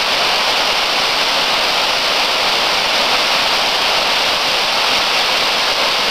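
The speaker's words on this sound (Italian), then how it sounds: "Guardate che bella la cascata di Ferrera di Varese, la cascata Fermona di Ferrera di Varese" The Cascata Fermona waterfall at Ferrera di Varese pours in a loud, constant roaring rush, close by and unbroken, with no voices over it.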